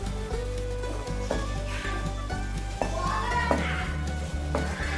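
Coconut burfi mixture being stirred continuously in a nonstick pan, a steady soft scraping and gentle sizzle with a few louder spoon knocks against the pan, close and alone.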